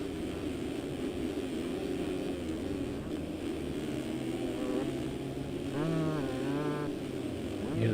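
A two-stroke motocross bike in the MX Simulator racing game at Fox Raceway, buzzing engine revs that rise and fall in quick sweeps near the end, over a constant drone of other bikes and faint voices.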